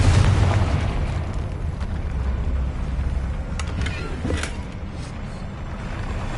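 A Confringo fire spell explodes in the Hogwarts Legacy video game, giving a loud blast with a rumbling tail that fades over several seconds, followed by a couple of smaller pops.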